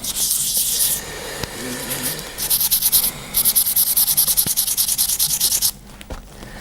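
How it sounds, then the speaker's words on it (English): Rhythmic hand sanding of the lacquered surface of a kit-built guitar to remove a drip, close and scratchy, in bursts of quick back-and-forth strokes with brief pauses between. "I'm sanding through here."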